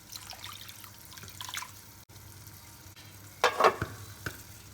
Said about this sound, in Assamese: ধুনীয়াকৈ উতলিছে,